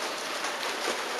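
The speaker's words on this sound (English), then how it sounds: "Raining, baby." Steady rain falls outdoors, a dense, even hiss of drops pattering on surfaces with no pauses, moderately quiet throughout.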